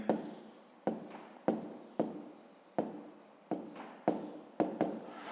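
A pen writes in a notebook during a fifth-grade maths exercise, about eight quick scratchy strokes, each starting sharply and fading, spaced roughly every half second, close and quiet with no talk.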